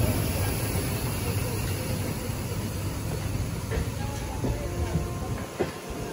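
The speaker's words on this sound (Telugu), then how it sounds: "ఏదో ట్రైన్ తీసుకెళ్తున్నారు ప్లాట్ఫామ్ మీదకి." Spare ICF and LHB passenger coaches being shunted onto a station platform, a steady rolling rumble with faint rail clatter and hiss throughout.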